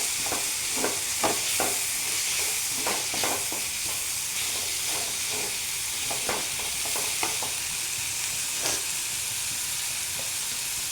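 Spice powders stirred into hot oil in a pan for a Kochi-style prawn roast, the spoon scraping in a quick irregular rhythm of close scratchy strokes over a steady frying hiss, with no talking.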